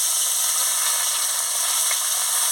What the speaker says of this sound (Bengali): বন্ধুরা, আমি এবার এক এক করে মাছটা ভেজে নিচ্ছি।